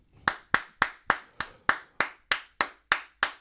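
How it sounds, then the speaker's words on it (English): A single person claps hands eleven times at a steady, even pace, each clap sharp and close with a short ring-out, no talking underneath. "I'm going to applaud you, King."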